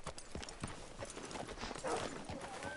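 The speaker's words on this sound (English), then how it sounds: "Hitch your horse up here." Horse hooves clip-clopping in Red Dead Redemption 2, a steady close walking rhythm of hoof strikes on the ground with faint background ambience and a brief snort.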